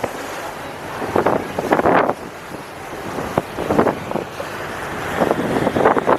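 Steady wind roars across the microphone in buffeting gusts that rise and fall, with no voices.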